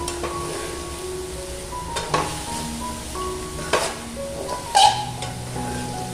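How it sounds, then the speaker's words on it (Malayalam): Bitter gourd thoran stirred in a pan after the lid comes off, a soft sizzle under repeated scraping strokes and a few louder clanks of the spoon against the pan, close by with no talking. "നന്നായിട്ടൊന്ന് ഇളക്കി കൊടുക്കണേ"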